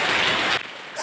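Rain pouring down on people bathing outdoors, a dense, loud hiss of falling water that drops off abruptly partway through and continues softer.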